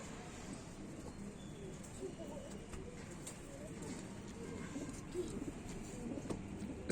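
Kaldume and kalpare pigeons coo faintly amid a busy, noisy background, with someone talking over them now and then.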